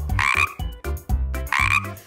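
A toad croaks in loud, rhythmic bursts, three long throaty calls separated by short pauses, close and clear with no voices.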